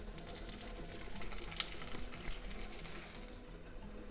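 Curry leaves fry in hot oil in a pan while cooking a spicy bottle gourd side dish, a steady close crackling sizzle with fine spitting pops throughout.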